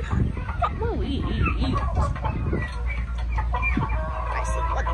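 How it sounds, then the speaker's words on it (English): Chickens clucking nearby in a close cluster of short, rising and falling calls and chatter, with a voice talking over them in the background. "Little chickens."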